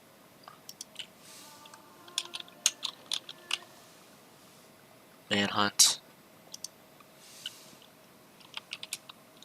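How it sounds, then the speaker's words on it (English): Clicky bursts of typing on a computer keyboard come in short clustered runs, fairly close and moderately loud, while a person talks quietly at a PC game store screen. "I see what you're typing."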